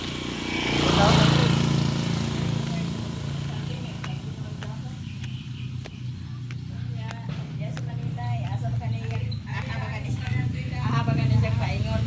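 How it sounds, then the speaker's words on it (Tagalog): A motorcycle engine hums low and steady as it passes through floodwater, swelling loudest early and again near the end, while people talk excitedly over it. "May motor pala."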